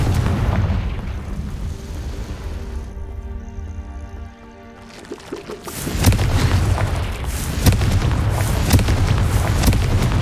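A Confringo fire-blast spell in Hogwarts Legacy erupts in a loud, booming explosion with rumbling bursts and crackle, preceded by a quieter tonal swell before the blast hits.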